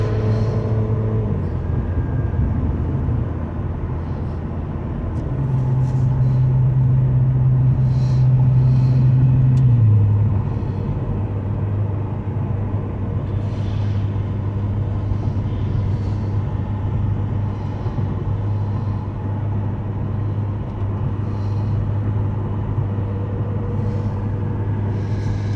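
A repairable salvage 2015 McLaren 650S rumbles on a test drive with a steady, loud engine drone heard from inside. Engine pitch rises briefly under throttle, then settles back into a constant cruising hum.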